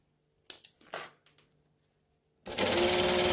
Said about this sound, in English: I'm going to put this right sides down. And we're going to stitch.